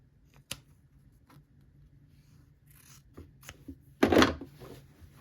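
Scissors snip through quilt fabric in a quiet room, a few faint isolated clicks and cuts followed by one louder, longer crunching cut near the end.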